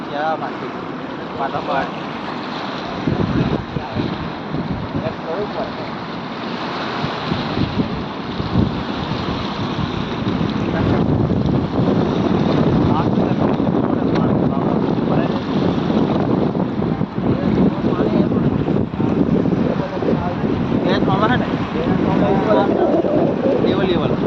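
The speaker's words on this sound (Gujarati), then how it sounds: "જોરદાર પવન છે" Strong wind buffets the microphone in a loud, continuous roar beside the flooded Tapi River, with water rushing nearby and a voice speaking faintly underneath.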